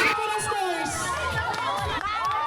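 A lively crowd at a company team-building event cheers and shouts continuously, with high excited voices, many of them children's, blending into a loud, sustained roar.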